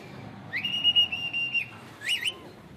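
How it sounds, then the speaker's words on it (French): Two shrill whistle blasts, the first long and held and the second short, signal manoeuvres to the driver at the far end of a Bangkok canal boat, heard over a low rumbling background. "Pour guider les manœuvres, tout se passe à coups de sifflet."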